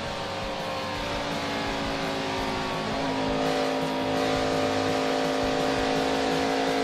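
NASCAR stock cars racing at Pocono in a 2009 Sprint Cup Series race, a steady loud drone of several engines holding high revs through the final turn, with pitch shifting as the pack passes.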